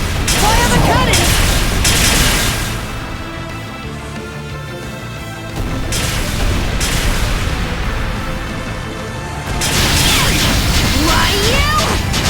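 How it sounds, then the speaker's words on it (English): Cannons fire in a naval battle in the video game Ys X Nordics, a dense barrage of loud booms and blasts that swells, dips and surges again over a continuous roar of battle, with no clear talk. "Fire the cannons!"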